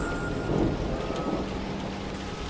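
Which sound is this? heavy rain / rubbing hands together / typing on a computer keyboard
heavy rain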